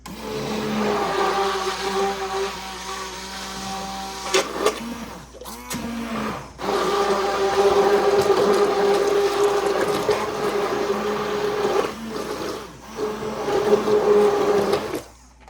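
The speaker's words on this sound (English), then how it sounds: "So now I'm gonna just take my blender thing here." A handheld immersion blender whirs steadily with a high motor hum, briefly stopping and restarting a couple of times, loud and close.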